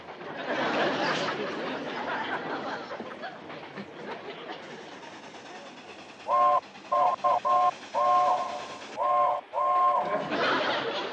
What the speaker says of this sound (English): What kind of a railroad signal is that?